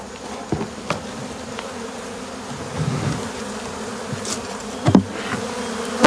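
Honey bees swarm under a shed floor, a dense continuous buzzing heard up close, broken by a few sharp knocks and thumps.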